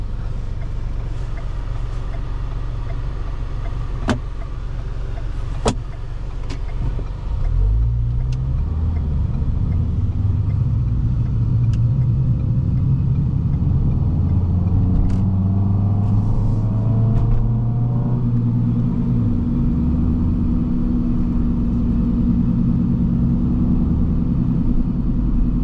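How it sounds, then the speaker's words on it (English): Intake roar from a modified 2012 Ford Fusion with an aftermarket exhaust, heard from inside the car while driving: a steady, loud low rumble that swells as the engine revs, with no talking. "So it does have an aftermarket exhaust as well, but I'll be honest, I can't really hear it really over the intake noise."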